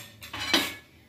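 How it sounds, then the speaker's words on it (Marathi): A metal tawa griddle is set down on a gas stove with two quick clanks, the second one louder, in a quiet kitchen before frying tandoori suran. "आता आपण फ्राय करण्यासाठी तवा आपण गॅसवर ठेवणार आहोत"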